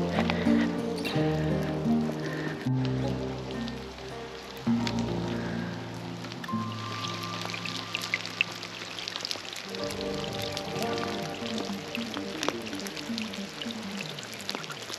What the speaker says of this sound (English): the sound of the rain on the roof is just beautiful